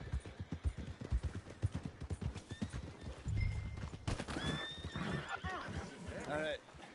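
Horse hooves clip-clop in a video game, with a loud neigh and whinny near the end, as a voice speaks over the steady hoofbeats.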